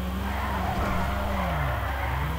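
A car drifts in GTA V, its tires squealing in a sustained, loud screech with the engine droning beneath, the pitch sliding up and down as the slide continues.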